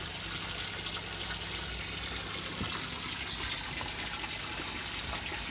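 Continuous rushing water pours and splashes steadily down a garden waterfall, a broad even wash of flowing sound close by with no voices.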